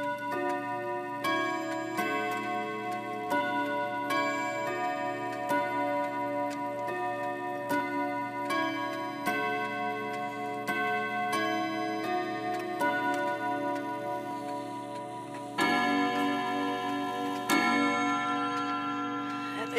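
Clocks ticking while being adjusted, a steady stream of sharp, bright ticks from several mechanisms overlapping over a constant tonal hum, with an extra burst of ticking near the end.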